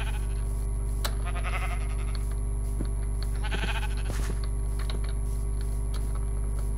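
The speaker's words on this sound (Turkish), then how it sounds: "Bu arada siyah kuzu gördünüz." Sheep bleating in the video game Minecraft, several short bleats scattered across the clip over a steady game background hum, with faint clicking like keyboard typing.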